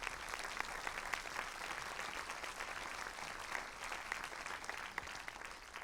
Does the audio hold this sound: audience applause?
yes